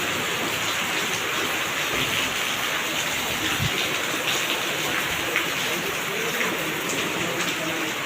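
Steady rain falls in a dense, even hiss of drops on surfaces, constant and fairly loud throughout, with faint scattered knocks beneath.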